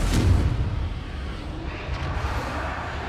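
A Confringo fire spell explodes in a wizarding video game, a heavy booming blast at the start that trails off into a low rumbling tail.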